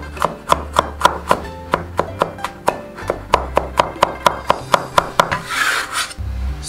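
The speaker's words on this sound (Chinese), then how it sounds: "然后再剁成蒜末" Flattened garlic cloves are minced with a cleaver on a chopping board: about twenty sharp, evenly paced chops land close by, with a brief scraping sound near the end.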